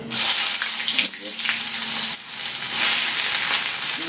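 Sliced onion frying in hot oil for an egg curry, a steady close sizzle with a faint whistle-like tone running underneath and a few soft clinks of stirring.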